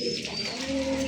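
Pigeons coo at a pigeon market, a soft, low cooing close by against a background of market bustle.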